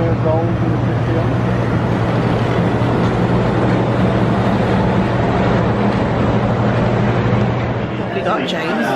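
A gold 50th-anniversary Walt Disney World monorail runs near the Magic Kingdom with a steady low mechanical hum and rumble throughout, while people talk over it.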